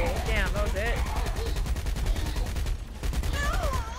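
Gunfire in the video game Saints Row 4, rapid regular bursts of shots pulsing throughout at close range, mixed with game music and a talking voice over the top.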